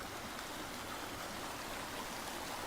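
A forest creek running steadily beside a small bridge, its broadband rushing and trickling water continuous and fairly even, moderately close, with no voices over it.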